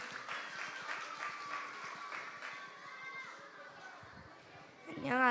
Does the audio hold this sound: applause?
yes